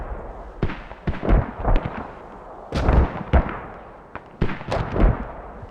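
Repeated mortar and artillery impacts in a large-scale multiplayer war game, a dense run of booming blasts and cracks, some close and loud and others farther off, overlapping with no talk.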